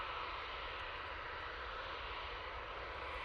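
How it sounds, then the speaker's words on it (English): A Boeing 787 Dreamliner departing for Paphos produces a faint, steady broadband jet roar that holds evenly throughout, heard from a distance with no talking. "And there's that beautiful Dreamliner going off to Paphos."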